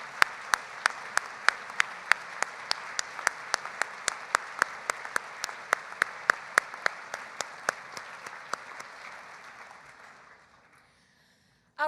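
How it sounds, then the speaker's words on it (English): Applause at a legal aid annual luncheon for volunteer attorneys, a sustained wash of crowd clapping punctuated by one regular, rhythmic sharp clapper, tapering off to silence near the end. "Please join me in a round of applause."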